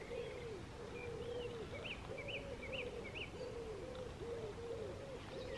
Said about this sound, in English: Just listening to the birds, mostly pigeons